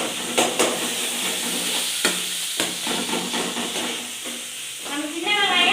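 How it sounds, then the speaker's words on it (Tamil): Curry leaves and turmeric sautéing in a pan for fish curry, a steady close sizzle and frying hiss with occasional stirring scrapes, no talk over it. "நல்லா வதக்கி வச்சுக்கலாங்க."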